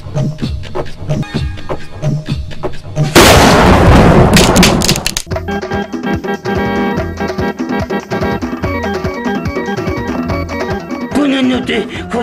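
A sudden loud blast bursts through ongoing music, followed by a rapid cluster of sharp cracking bangs before the music continues.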